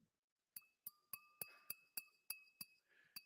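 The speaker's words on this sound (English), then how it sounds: "A ring is hitting the glass." A ring taps a water-filled drinking glass about ten times in an even rhythm, each clear ringing clink close and distinct with a short decay, in a quiet room.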